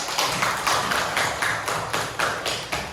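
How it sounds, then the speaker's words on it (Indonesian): Classroom audience clapping at the end of a student group's presentation on funeral prayer, a steady burst of many hands applauding together at close range with no talking. "Beri aplaus."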